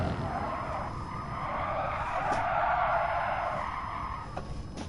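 Tires skid with a sustained, broad screech as a race car brakes in a straight line in GT Sport, the squeal swelling and easing over a steady engine drone.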